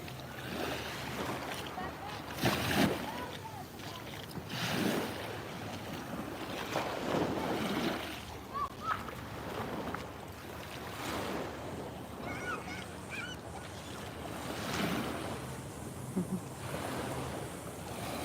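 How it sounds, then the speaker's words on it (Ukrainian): Sea waves washing onto a Côte d'Azur shore after a thunderstorm, repeated surging swells every couple of seconds with wind buffeting the microphone, fairly close and continuous. "Який приємний шум моря."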